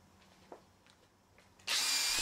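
A metal-cutting machine works on cylinder covers for a model steam engine, three cut at once. Faint workshop clicks come first, then a loud, harsh whirring cut starts abruptly near the end and holds steady.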